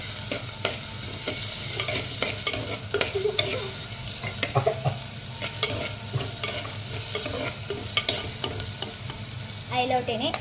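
Green chilies are stirred into a sizzling fish curry in a pan; repeated scraping and clacking strokes of a spoon ride over a steady close frying hiss, with no one talking.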